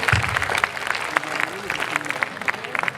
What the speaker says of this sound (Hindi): एक बार मेरा मन है कि दादा के सम्मान में आप तालियां बजा दीजिए।